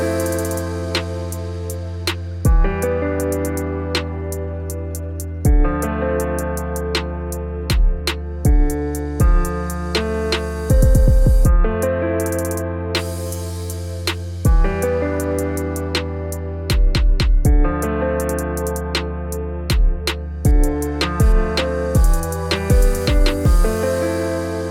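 The finale of an electronic dance track: sustained synth chords play over a steady electronic drum beat with deep kicks, snappy hits and rapid drum rolls at intervals, loud and continuous with no voices.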